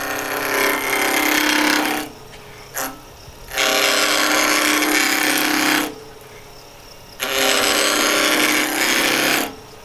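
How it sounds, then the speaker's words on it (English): A lathe tool cuts away the square corners of a wooden Christmas-tree wine stopper blank in easy passes, giving three loud, sustained bursts of rough scraping and chattering separated by short quiet gaps, with no talking. "We're just going to take easy passes and just remove the excess wood,"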